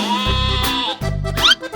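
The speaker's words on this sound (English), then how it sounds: "Sheep." A sheep in a 3D animal video game bleats, a short wavering call set against looping game music, followed by a quick rising chirp-like sound at the end.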